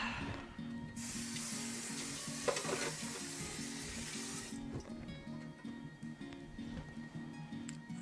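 Water poured into a pot for marmalade, a broad hissing splash lasting about four seconds before it stops, with a soft low bubbling and clinking continuing quietly around it.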